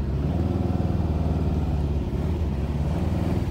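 A 1971 Porsche 914 with a mid-mounted engine drives in first gear, its motor giving a steady, loud, close pulsing drone with no one speaking.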